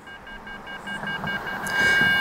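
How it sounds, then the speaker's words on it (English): A Vivax Metrotech VM 850 cable locator receiver emits a steady electronic tone that grows slightly louder toward the end, heard close up with no talking. "when I hear that break, hear the beep, beep, beep, beep, that's telling me to go to my left"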